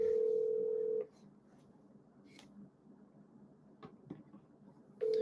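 A telephone ringback tone sounds while an outgoing call waits to be answered during a sports postgame show: one steady, loud tone burst, a long quiet gap, then the next burst beginning.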